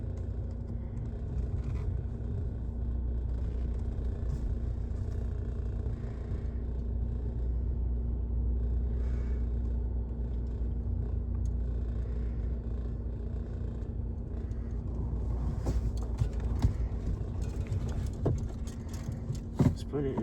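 A car being eased out of a car wash and put into drive gives a steady, low engine rumble with a constant hum throughout, while a few quiet voices come and go over it.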